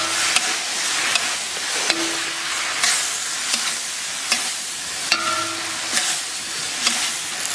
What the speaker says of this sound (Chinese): 炒的差不多啊，咱们把鸡蛋给它下到里面